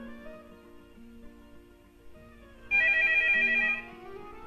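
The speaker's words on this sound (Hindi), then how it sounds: "टेलीफोन मैं सुन लूं" A telephone rings indoors, a bright electronic trill that sounds once for about a second over a quiet, faintly musical background, then stops.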